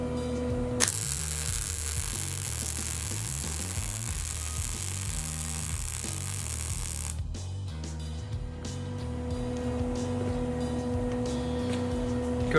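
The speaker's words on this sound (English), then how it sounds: "Just gonna lay a spot weld right here in the middle" A spot weld goes onto a brace on the lower control arm of a long-abandoned Dodge Challenger during a suspension rebuild. It gives a steady crackling sizzle for about six seconds and then cuts off, while an electrical hum continues underneath.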